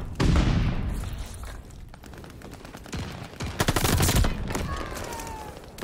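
Gunfire in Call of Duty Vanguard, rapid automatic bursts and fusillades with several loud volleys, interleaved with a shouting voice.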